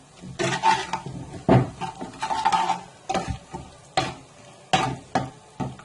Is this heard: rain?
no